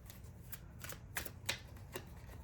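Tarot cards are shuffled and pulled from the deck in quick papery riffles and soft flicks, a few sharper snaps standing out, faint and close with no talking.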